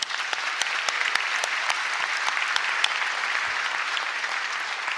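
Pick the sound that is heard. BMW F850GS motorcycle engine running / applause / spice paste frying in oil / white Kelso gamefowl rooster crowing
applause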